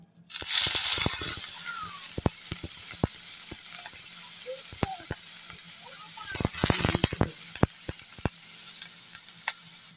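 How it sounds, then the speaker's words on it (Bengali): Hot oil sizzles and crackles as small dried shrimp pieces are fried, with sharp pops and scattered utensil clicks throughout. "তেলটি গরম হয়ে গেছে, এখন দিয়ে দিচ্ছি চিংড়ি মাছ গুঁড়োগুলো।"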